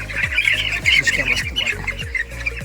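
Poultry birds loaded back onto a small pickup squawk and cluck loudly and continuously at close range, a dense overlapping flock chorus throughout.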